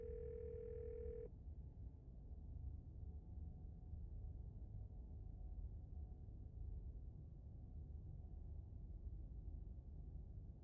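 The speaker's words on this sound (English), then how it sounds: "You can hear something drop violently on the other end, and then a dial tone." A steady telephone dial tone rings out alone for just over a second in the video game Scarlet Hollow, then cuts off abruptly into a low, quiet background hum.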